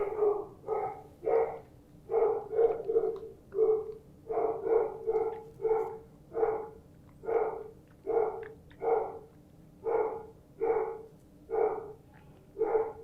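A dog barks repeatedly in steady, rhythmic bursts over about thirteen seconds, fairly close and loud, with no talking.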